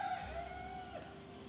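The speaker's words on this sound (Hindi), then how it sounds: "मुर्गी सब कुकड़ू कर रहे हैं" Roosters crow at dawn in early-morning fog, one drawn-out crow carrying clearly from a moderate distance over soft background ambience.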